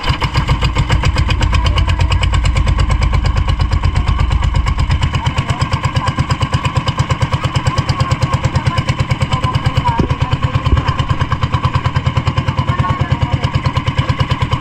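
A loud boat engine running steadily close by, with a fast rhythmic chugging that holds an even idle throughout.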